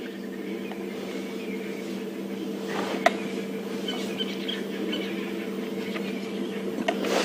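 A squirrel gives faint, repeated squeaky alarm calls at a leopard in the African bush during a morning safari drive, distant and thin over a steady low hum of vehicle and ambient noise.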